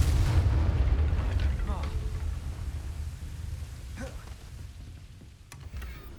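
A Confringo fire spell blast in Hogwarts Legacy, played on PS5, sounds as a loud booming burst with deep rumble that slowly fades, with a few sharp crackles later.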